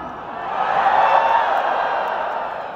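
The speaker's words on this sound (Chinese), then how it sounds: "今天来的男同学，请尖叫" Men in a large stadium concert crowd in New York scream together on cue, a sustained roaring wash of male yelling that swells and then holds, sounding broad and somewhat distant.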